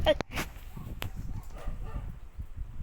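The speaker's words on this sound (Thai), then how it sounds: "ใครเห่ากัน หมามันเห่า" Dog barking in a zoo-building game: a few short, sharp barks and yips, moderately close, scattered over a low background murmur.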